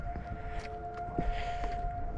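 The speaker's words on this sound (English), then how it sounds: "They're testing the tornado sirens." Tornado sirens undergoing a morning test wail faintly in the distance as a steady tone, partly buried under outdoor background noise.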